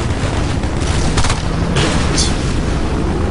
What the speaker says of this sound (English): everybody shoots each other in this game